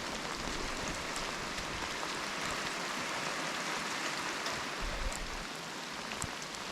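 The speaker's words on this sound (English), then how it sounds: "no cooking up here today until the rain dies out." Steady rain falls on a spring homestead with an earth oven, a dense continuous hiss of drops on surfaces with no break, heard alone at moderate level.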